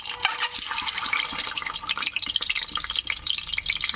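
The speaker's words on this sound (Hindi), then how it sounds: "तो चलिए इधर तेल हो गए हैं गरम, अब एक एक डाल के हम फ्राई कर लेते हैं।" Eggs fry in hot oil for a spinach egg curry, giving a dense, close crackling sizzle with rapid pops throughout.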